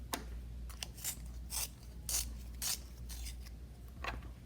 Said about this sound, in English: Time to sharpen that pencil again.